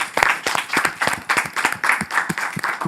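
Audience applause at a Semaine Bleue cultural event, dense and steady hand clapping from a crowd, close and fairly loud throughout with no speech.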